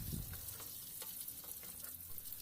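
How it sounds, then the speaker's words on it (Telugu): Fish pieces are stirred into a sizzling curry in a pan, giving a close, continuous frying crackle with soft scraping stirs at an irregular pace. "ఇప్పుడు ఇందులో చేప ముక్కలను వేసుకొని బాగా కలుపుకోండి."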